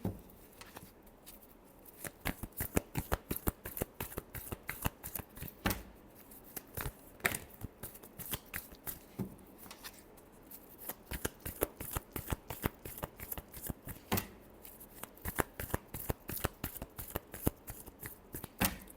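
Tarot cards riffled and shuffled by hand in quick, crisp bursts of flicking and snapping, with short pauses between runs, close and fairly quiet, no talking.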